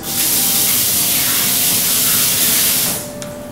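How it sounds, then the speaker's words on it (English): Olive oil sprays onto an eye of round roast in one continuous loud hiss lasting about three seconds, then cuts off, leaving faint kitchen background. "put some more olive oil on"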